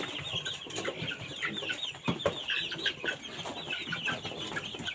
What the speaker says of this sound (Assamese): এইখিনি ইয়াত 100 পোৱালি আছে।